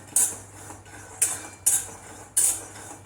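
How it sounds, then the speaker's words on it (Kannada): A metal spoon or spatula scrapes and knocks against a pan as peanuts dry-roast over a low flame, four sharp clinks spaced about a second apart over a faint background hum. "ಸಣ್ಣ ಉರಿನಲ್ಲಿ ಹುರಿತಾ ಇದ್ದೀನಿ ನಾನು. ಇವಾಗ ನೋಡ್ಬೋದು ಹುರಿತಾ ಇದೆ ಶೇಂಗಾ."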